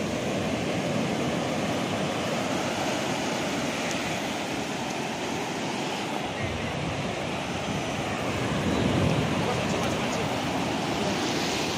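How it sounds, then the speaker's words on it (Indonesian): Ocean surf rolls onto a beach in a broad, continuous roar mixed with wind buffeting the microphone, steady and close with a slight swell near the end. "Wah, ombak iki."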